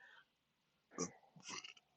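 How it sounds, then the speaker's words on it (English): A single gurgling burp erupts close up after a quiet pause, followed by a second rougher, drawn-out belch-like rasp. "Oh, that was a good burp."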